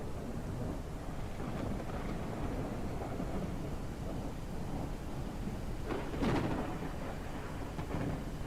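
Thunder rumbles from the weather effects of the video game Out of Ore: a steady low roar with rain and wind noise, swelling into a louder crack and rumble near the end, no voices.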